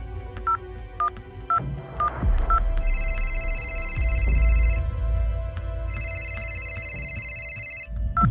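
A phone dials with a series of short keypad beeps, then rings in two long electronic bursts that go unanswered, loud and close with a low hum underneath.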